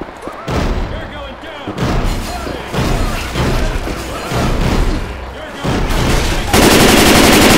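Rifle fire in the zombie shooter Left 4 Dead 2, loud bursts of shots and booming impacts in dense, continuous waves with a short lull partway through, played under game action.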